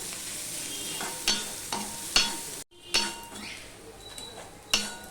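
Onions sizzle steadily in a hot pan while a utensil scrapes and clinks against the metal several times.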